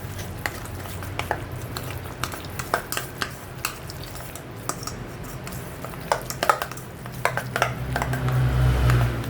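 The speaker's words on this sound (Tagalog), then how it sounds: "Halo-haloin lang natin siya para mag-combine yung kanyang mga ingredients." A spoon stirs a mixture seasoned with soy sauce and a little sugar, making scattered clinks and scrapes against the pan over a low sizzle that swells louder toward the end.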